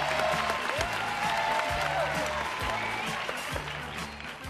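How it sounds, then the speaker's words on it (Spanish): A television studio audience at a Christmas game show applauds the postmen, dense steady clapping at close range with a low rhythmic musical beat underneath, tapering slightly at the end. "hay que mandarles un fuerte aplauso a los carteros"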